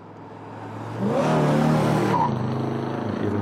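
A GTO motorcycle engine from a sound effects library: a close, rumbling idle swells into a loud rev about a second in, then sits as a sustained roar with a brief pitch rise before settling back to a heavy drone.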